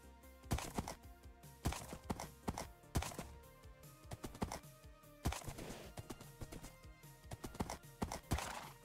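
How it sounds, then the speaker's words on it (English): Horse in Minecraft, a rapid run of clip-clop hoof thuds with a whinny, loud and close, in uneven bursts with no talk. "Oh my god, you just killed my horse."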